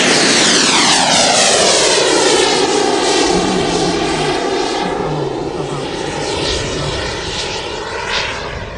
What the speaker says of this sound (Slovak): Divácky atraktívnou bola aj exhibícia makety vojenského prúdového cvičného lietadla Aero L-39 Albatros.